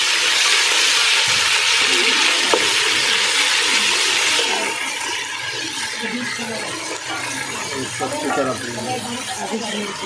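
Ginger garlic paste frying in a pan for chicken pulao, a loud broadband sizzle that eases after a few seconds into softer crackling with stirring scrapes.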